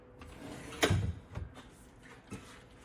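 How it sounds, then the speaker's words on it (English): Wooden pantry drawers pulling out in a house, a single soft sliding thud followed by lighter rattles, close and fairly quiet with no voices. "All of these drawers pull out so that you are easily accessible to all of your"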